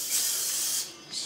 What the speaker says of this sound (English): spray with Lysol